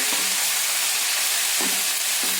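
Mint leaves sizzle in a pan over a medium flame while being cooked for mint rice, giving a steady, close hiss with a few soft stirring knocks and no talk.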